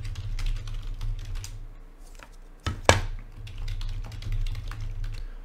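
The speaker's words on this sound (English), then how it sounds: "so I'll start typing in our cards here." Rapid clicking of keys on a computer keyboard, close up, in uneven bursts with a louder thump in the middle, while entering trading card details.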